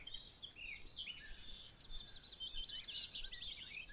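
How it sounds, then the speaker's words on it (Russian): Birds sing faint, gentle morning trills and chirps, twittering continuously at a distance over a quiet background. "нежные трели птиц"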